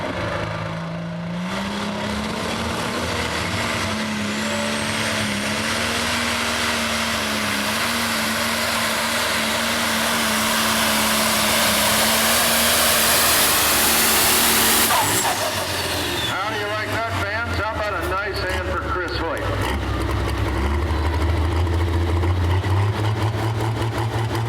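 A 4,000-horsepower tractor pull truck engine at an East Coast Pro Pulling League event in Boonsboro, screaming past 5,000 RPM in a loud, steady roar that climbs over about fifteen seconds, cuts off abruptly, then rumbles back lower.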